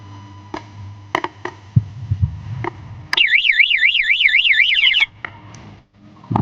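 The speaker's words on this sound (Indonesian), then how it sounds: "apabila maling membobol kunci kontaknya, maka alarmnya akan berbunyi untuk seterusnya" A V12 alarm fitted to an old Yamaha MX motorcycle wails loudly in a fast warbling, rising-and-falling siren for about two seconds. Scattered clicks and low engine-like rumble come before it, and the alarm stops abruptly.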